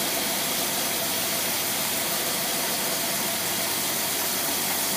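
A marine boat engine fitted with a Rochester Quadrajet carburetor idles in a steady, loud, unbroken roar with a hissy wash, running with no talk over it.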